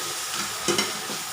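Cluster beans with a little chili sautéed in oil, a soft steady sizzle with a brief louder stir and scrape of the pan near the middle, close and alone without talk.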